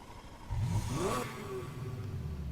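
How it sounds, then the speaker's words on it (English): Car engine revving in the racing video game NFS Heat, a loud rising vroom that climbs in pitch and then settles into a lower engine drone, with no talk over it. "Rev your engine."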